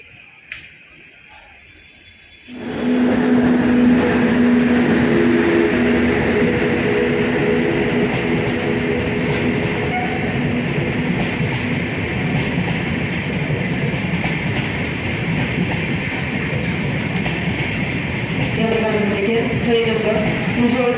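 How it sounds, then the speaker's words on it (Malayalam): The Kollam to Secunderabad Special Express pulls into platform 1 at Ernakulam North railway station. After a quiet opening, a loud, dense rumble of rolling wheels and carriages surges in at once and holds steady close by. "From Kollam to Secunderabad Special Express will arrive shortly on platform number 1."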